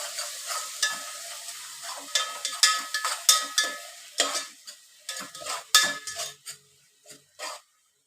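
Onion, tomato and green chillies fry in a pan while a spoon stirs them, giving a series of sharp scraping strokes and clinks over a faint sizzle, spaced irregularly and close by.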